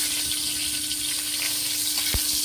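Two dried red chillies and two bay leaves sizzle in hot oil as a tempering for a fish curry, a steady close crackling fry with a few sharper pops.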